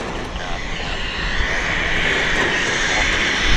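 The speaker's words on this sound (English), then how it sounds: "This is a medevac citation" A Cessna Citation medevac jet at Vancouver Airport gives a steady, broad roar with a high whine, holding at a constant loud level throughout.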